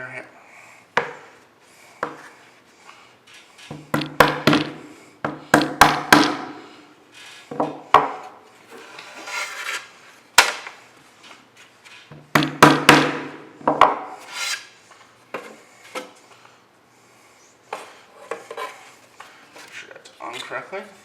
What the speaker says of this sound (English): and our hammer.